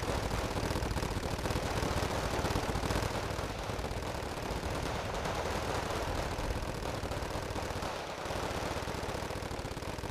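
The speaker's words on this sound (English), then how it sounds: "I'm going to use these Mi-2s to provide some fire support." Helicopter fire support from Mi-2 gunships in the Wargame Red Dragon real-time strategy game, a dense, continuous roar of rapid machine-gun fire and explosions over engine rumble, loud and sustained throughout with no speech.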